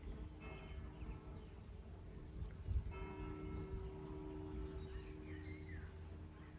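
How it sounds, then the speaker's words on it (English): Faint village church bells in Tuscany ring at a distance over a low steady hum, with occasional birdsong and small outdoor noises. "The bells from the village church."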